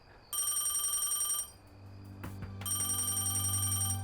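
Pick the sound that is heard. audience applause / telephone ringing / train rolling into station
telephone ringing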